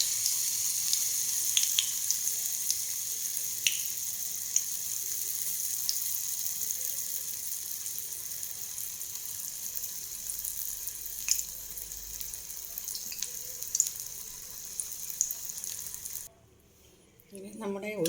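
Neyyappam batter frying in hot coconut oil gives a long, steady, close sizzle with scattered small crackles and pops, ending in a brief lull and a soft clatter.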